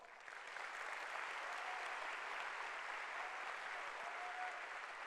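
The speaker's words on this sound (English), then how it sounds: "So give our family a round of applause." Steady applause from an audience honoring a family at a business presentation, a dense even wash of clapping rising quickly and holding, heard from some distance and fairly soft.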